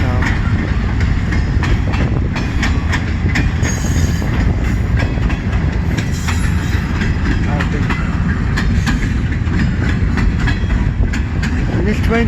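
A CN freight train passes close and loud near Emmett, Michigan, a steady roar of wheels and cars with rhythmic clacking and occasional squeal throughout.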